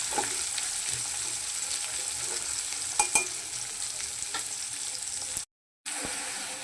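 Chopped onions fry in a pan with a continuous bright sizzle, while a few sharp spatula knocks and stirring scrapes cut through near the middle and a brief gap of silence falls near the end.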